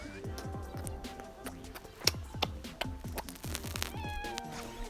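Repeated cat meows in a video game, several short cries in quick succession with some longer wailing calls, fairly close and clear.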